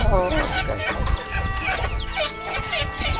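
Chickens, including an old hen kept for laying, cluck busily up close, a steady chatter of short clucks with a voice murmuring underneath, in a village home in a mountain valley.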